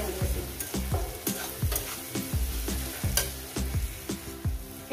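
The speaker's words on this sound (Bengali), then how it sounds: "এটা আগে মিনিমাম 2 থেকে 3 মিনিট এটাকে আমি পেঁয়াজের সঙ্গে একটু ভেজে নেবো" Shrimp frying with onions in a pan over a medium flame, a steady close sizzle broken by repeated stirring scrapes and clatters of a spatula in a rhythmic pattern, with no talking.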